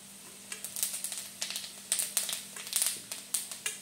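Coarsely ground whole coriander seeds and fennel seeds crackle and sizzle in hot oil in a pan, with a steady hiss broken by frequent sharp pops and spits, close up and without voices.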